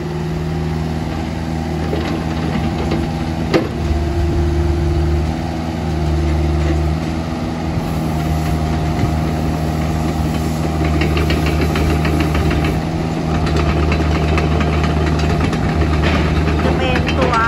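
A Kubota KX161-3SZ 5-ton backhoe runs steadily throughout with a loud, close, knocking diesel idle and a constant low drone, while someone speaks over it.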